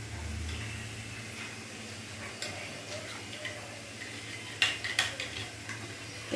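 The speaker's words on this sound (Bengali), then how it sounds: "ভালো করে গুলে নেবো এটা।" Coriander powder is stirred into a little water to make a spice paste, a spoon ticking and clinking against a small bowl in light scattered taps, with a louder cluster of clinks near the end.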